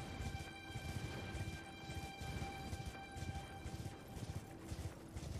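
Rhythmic horse hoof clopping in the video game Elden Ring repeats at a steady walking pace, fairly quiet, accompanied by faint sustained tonal hums in the background.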